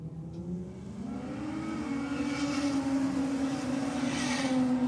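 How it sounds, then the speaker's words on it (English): A pair of inline-six race cars at a drag strip accelerating toward the finish line, a rising engine drone that grows steadily louder and higher in pitch as they approach, with no talking. "Pair of inline sixes are racing towards the finish line right now"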